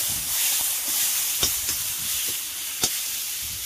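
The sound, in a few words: spices frying in pan for pork intestine dish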